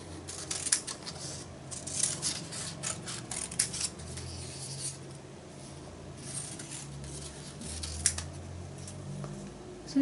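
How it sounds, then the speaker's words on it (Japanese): Paper stencil for a pastel drawing being cut with a craft knife and trimmed, giving soft intermittent scraping and snipping rubs with a few sharper clicks, close and quiet, no talking. "こちら使いやすいようにカットしていきます。"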